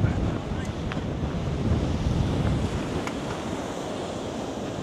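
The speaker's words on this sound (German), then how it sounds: "Mann, ist ganz schöner Wind." Strong wind roars and buffets the microphone at the Maspalomas seafront in Gran Canaria, a constant loud rush over waves breaking nearby, with no clear speech.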